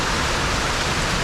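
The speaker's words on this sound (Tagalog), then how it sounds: "Grabe na ang hangin. Grabe pa ang ulan." Heavy rain and strong wind roar as a dense, constant wash of noise, loud and close with no pauses or voices.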